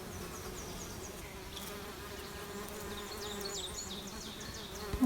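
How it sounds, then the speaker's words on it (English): A male tricolored bumblebee buzzes while pollinating dogbane flowers in a bog, a steady close droning hum throughout with faint higher insect and bird sounds in the background. "We've got some bumblebees, like this male tricolored bumblebee pollinating."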